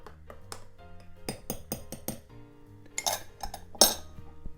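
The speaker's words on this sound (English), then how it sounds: "so I'm going to stir this one" A spoon stirs a pot of tea, clinking against the pot in a quick series of bright, close taps and scrapes, with louder knocks near the end and no voices.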